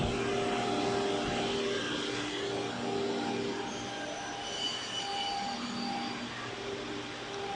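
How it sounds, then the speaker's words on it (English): An edge beveling machine on a kitchen cabinet production line works melamine board, giving a loud, continuous grinding roar with steady high whining tones and a squeal that holds throughout, with no speech. "the worker is do the edge beveling"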